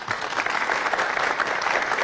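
Studio audience applause on a Persian comedy game show, a dense steady clapping that fills the moment at moderate volume.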